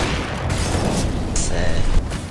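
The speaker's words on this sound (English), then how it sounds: "Throwing flashbang." Flashbang grenade going off in CS:GO, a loud, sustained burst of wideband noise and booming rumble that fills the whole moment, with a high ringing streak midway through.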